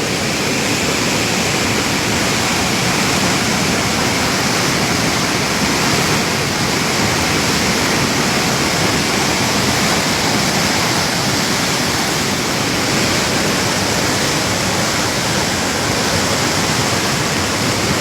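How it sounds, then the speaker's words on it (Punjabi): Floodwater of the swollen Sutlej River pours over a wall in a loud, unbroken roar of rushing water, a steady close rumble with no breaks or voices throughout. "ਓਏ ਨਕਸ਼ੇ ਵਾਲੀ ਕੰਧ ਤੇ ਪਾਣੀ ਚੜ ਗਿਆ"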